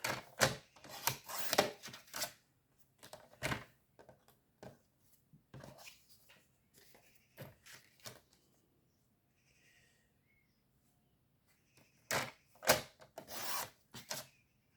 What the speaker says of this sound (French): Vous voyez, il y a des petites bandes ici et des petites bandes ici. Je vais les couper.